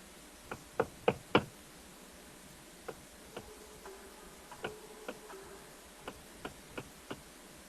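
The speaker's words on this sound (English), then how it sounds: "Why did he keep knocking on the walls?" Knocking on walls, sounding as scattered sharp raps: a quick cluster of three knocks, then single taps spaced through a quiet, hushed room with no voices.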